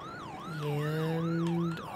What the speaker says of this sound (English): Switch up our siren tone a little bit.